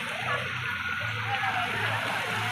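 Water from a waterfall rushes and splashes in a continuous, close wash of sound, with a voice talking over it.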